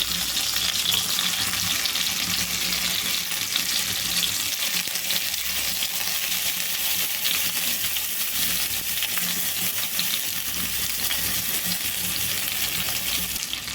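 Steady, dense sizzling of brinjal pieces frying in hot oil, continuous and close, with no talking.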